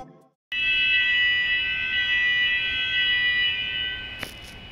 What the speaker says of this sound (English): The second alarm is the fire alarm,